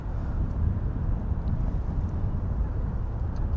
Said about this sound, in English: this wind's really strong now